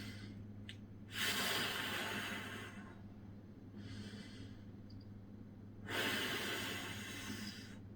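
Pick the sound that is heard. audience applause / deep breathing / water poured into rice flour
deep breathing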